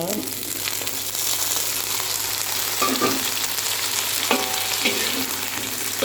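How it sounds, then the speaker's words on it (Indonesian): Broccoli stirred in a frying pan gives a dense, continuous sizzle with occasional scrapes of a utensil, while a voice talks faintly underneath. "Sayur brokolinya kau aduk-aduk rata."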